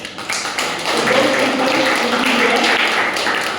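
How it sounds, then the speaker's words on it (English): A club meeting audience claps together in a room, a steady wash of mixed hand claps that swells after a brief quieter start and holds throughout. "So let's all clap together"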